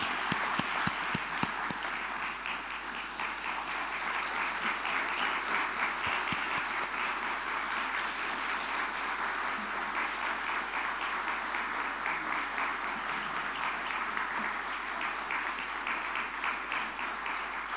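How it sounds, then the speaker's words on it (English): Sustained thunderous applause from a large audience giving a standing ovation at a farewell event for an ambassador, a dense steady roar of clapping that begins with a few sharp individual claps and holds evenly loud throughout. "we should give him a thunderous round of applause in the Dubai way, a standing ovation"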